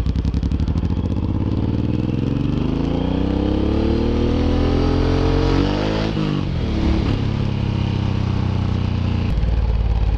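A Suzuki M109R motorcycle cruising on the road, its engine droning loud and continuous with a rising pitch as it accelerates, then shifting and pulling again, heard up close with wind noise.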